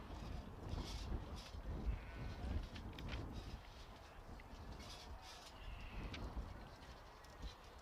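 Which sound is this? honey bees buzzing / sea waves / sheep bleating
sheep bleating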